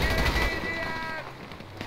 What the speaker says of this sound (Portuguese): Ai, tô levando tiro.